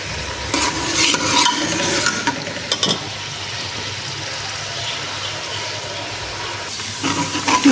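Onions lightly frying in a pan for a daal mash dish, a steady broad sizzle with scraping stirring strokes, fairly close with no talk.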